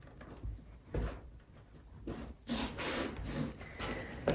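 Sinamay fabric is folded over and pressed down by hand, giving close, soft rubbing and scratchy rustling strokes in a slow, uneven rhythm.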